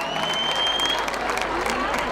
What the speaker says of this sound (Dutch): Geef ze een geweldig applaus